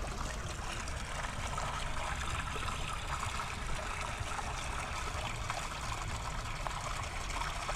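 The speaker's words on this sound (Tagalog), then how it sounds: "Papasok na yung tubig." Water runs steadily into a container, a continuous soft trickling and splashing at a low, even level with no talking over it.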